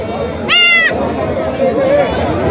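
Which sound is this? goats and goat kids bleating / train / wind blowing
goats and goat kids bleating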